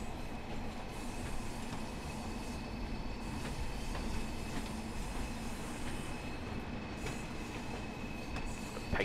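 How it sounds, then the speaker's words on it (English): In a railway simulator game, a train running between Blackpool and Preston drags a broken-down train: a steady, low rumble of wheels on track with faint rhythmic clicks and a thin high whine, continuous and with no talk. "picked up the broken down train, which we're now dragging back to Preston"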